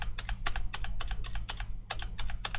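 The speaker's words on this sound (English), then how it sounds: "Can you hear the spacebar?" Keys clack in quick succession on a computer keyboard, close and crisp, a run of sharp taps over a low steady hum with no speech.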